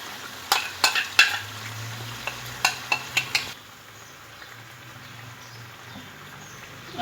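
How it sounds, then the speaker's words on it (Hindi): Chicken coated in spiced yogurt frying in a karahi for tandoori chicken curry: a run of sharp metallic spoon clinks and scrapes over a low sizzle, then only a faint quiet hiss. "अब इसको अच्छी तरह से भून लूंगी मैं।"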